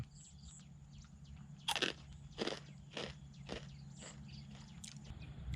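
A crunchy Burmese potato snack being bitten and chewed, several sharp crisp crunches spaced about a second apart, close to the mouth and moderately loud over a faint background hum, with no talking.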